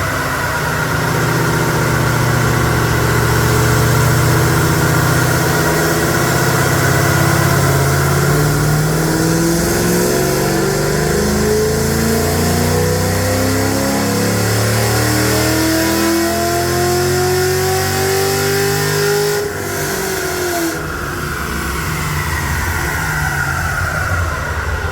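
A bolt-on Chevy SS with an LS3 engine, headers, intake and tune runs on a dyno: a loud, steady drone climbs in a long, smooth rev sweep, then drops off sharply as the run ends.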